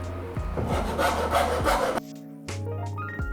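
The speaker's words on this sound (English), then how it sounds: "A few seconds of sanding and I got enough threads to tighten it adequately." A wooden sink mount for a camper van in a Chevy Astro is sanded by hand with rapid, scratchy back-and-forth rubbing strokes, close and fairly loud, then a short pause before more rubbing.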